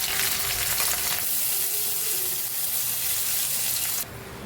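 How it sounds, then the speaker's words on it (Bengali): Cashews and raisins fry in hot oil in a pan, giving a loud, steady sizzle that runs without a break and drops slightly in level near the end, with no talking. "এবারে ভেজে নেব কিছু কাজু বাদাম আর কিশমিশ"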